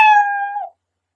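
A short synthetic cat meow sound effect from a fraction-teaching computer program, a single clear tonal mew lasting under a second and then silence.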